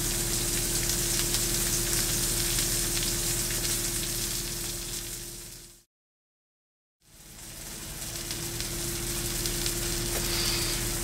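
Pork chops fry in a pan, a loud, steady close sizzle with a low hum beneath that fades out to a second of silence midway and then swells back.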